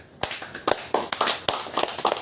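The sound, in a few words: audience clapping hands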